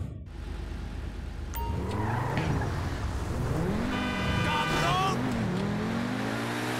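The engine of a Pegassi Ignus supercar, a tuned and armed vehicle in GTA Online, drones steadily and rises and falls in pitch as it drives, with someone talking over it.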